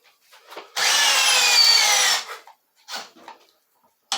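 A cordless drill, Milwaukee, Makita or Ridgid, runs at speed 1 during a tool test, a loud, close, harsh grinding burst of about a second and a half with faint rustles before and after.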